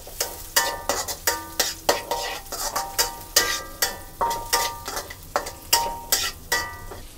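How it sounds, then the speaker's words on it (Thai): Shallots and garlic stir-fried in pork lard, a steady sizzle broken by regular rhythmic scrapes and tosses of the spatula against the pan, close and fairly loud with no talking. "ผัดหอมแดงกับกระเทียม"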